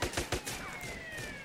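Gunfire in an online police chase video game: a few sharp rapid shots at the start followed by a fainter, ringing tail, fairly quiet overall.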